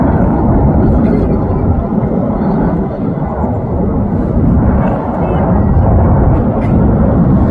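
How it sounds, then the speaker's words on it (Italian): An airplane flies overhead in Luxembourg, a loud, broad rumbling roar that swells and dips slightly while sustaining for several seconds. "abbiamo beccato un aereo."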